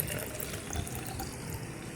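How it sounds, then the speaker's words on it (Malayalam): Water poured into a container for a homemade leaf-pest remedy, a soft, steady splashing trickle heard close and alone at low volume. "ഇതിലേക്ക് വെള്ളം നമുക്ക് നന്നായിട്ട് ഒഴിക്കാം"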